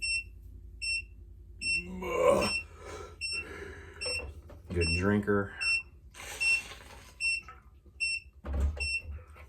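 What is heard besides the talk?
electronic beeps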